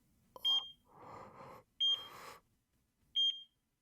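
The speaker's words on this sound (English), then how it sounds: "I could hear a monitoring device near her, beeping at regular intervals." Medical monitoring device in the visual novel game Chaos;Child beeping at regular intervals, three clean, loud electronic beeps spaced more than a second apart, with soft rustling sounds between them.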